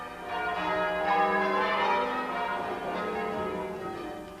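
Church bells ring out at Chichester Cathedral in West Sussex, rich overlapping tones that swell and sustain in a continuous peal with no voices.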